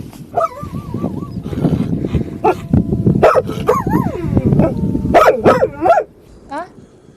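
A young wolf barks and yips like a dog, with rising and falling whine-like calls in short bursts, close and fairly loud over a busy background, and the calls fade out near the end.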